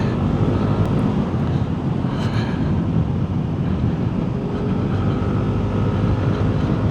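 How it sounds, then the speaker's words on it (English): Wind buffets the microphone of a Sym ADX 125 scooter climbing the Transfagarasan road in a constant low roar, with no gaps and no voices. "It is quite windy."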